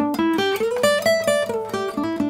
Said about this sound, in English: The major pentatonic sounds like this.